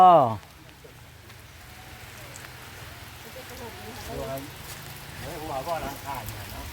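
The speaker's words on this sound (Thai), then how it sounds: "ฝนตกม็เบิ่งกัน" Rain falling at a rural home, a steady faint hiss throughout with people talking over it.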